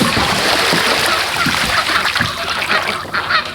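Dirty water is dumped out of duck water containers, a loud rushing splash and pour that runs steadily, with faint quacking from ducks close by.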